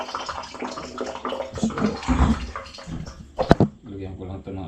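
Water runs into a tank or container at a home supplied by a local water district, a steady splashing flow under a man's speech in Filipino.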